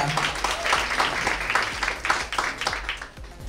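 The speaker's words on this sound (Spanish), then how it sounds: "Vamos a darle un fuertísimo aplauso a Pierre Tulanto, producer of Fashion Designers of Latin America." Enthusiastic audience applause for fashion producer Pierre Dulanto at a New York Fashion Week event, a dense continuous patter of many hands clapping at full strength throughout.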